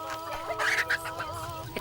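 A chicken clucks softly in an African village in the late afternoon, making a few short calls over a steady background hum.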